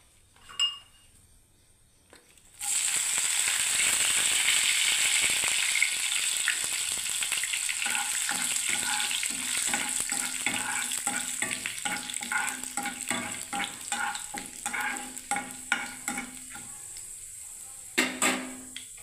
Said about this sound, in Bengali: এবারে প্রথমে আমি বন্ধুরা দেখুন কারি পাতাটাকে ভেজে নিচ্ছি।